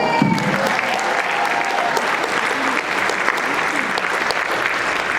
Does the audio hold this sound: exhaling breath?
no